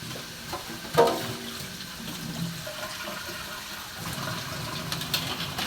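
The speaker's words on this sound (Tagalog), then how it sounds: "Nilagyan natin ng kunting tubig kasi tuyo na po sa ilalim." A short splash of water poured into a pan of vegetable dish that has gone dry on the bottom, followed by a steady low sizzle and bubbling at close range, with no talking.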